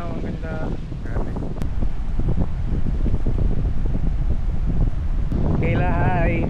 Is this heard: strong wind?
yes